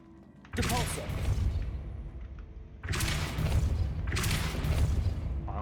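Depulso spell casts in a Harry Potter video game, heard as two loud booming bursts with a rushing, crackling tail, the second followed by a further surge, over a low rumbling background.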